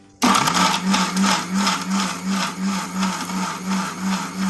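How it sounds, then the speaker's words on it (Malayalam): A mixer grinder grinds grated coconut with vegetable pieces for a veg stew. It starts abruptly and runs as a loud, steady motor whir with a rhythmic pulsing churn, close up and with no voices. "ഇനി തേങ്ങയിൽ കുറച്ച് കഷ്ണം ഇട്ടിട്ട് ഒന്ന് അരച്ചെടുക്കാം"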